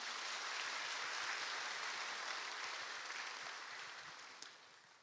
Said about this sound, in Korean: 동산의 가족이 되신 분들께 마음을 담아 박수로 환영하도록 하겠습니다.